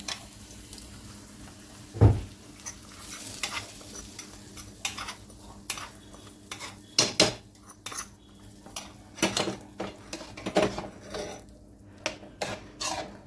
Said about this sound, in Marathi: बंद करूया तडका यात टाकूया